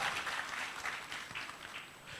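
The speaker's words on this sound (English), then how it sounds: "Let's clap for her." Faint, brief clapping from a conference audience at a legal aid event, a soft continuous patter heard from a distance for about two seconds.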